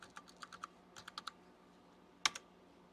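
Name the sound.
typing on Apple IIc computer keyboard keys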